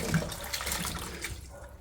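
Callaloo greens being washed in water with vinegar and salt, giving a continuous close splashing and swishing of liquid, soft and steady throughout.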